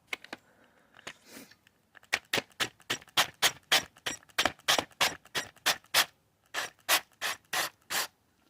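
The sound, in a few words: cutting an M9 thread into a hole with a tap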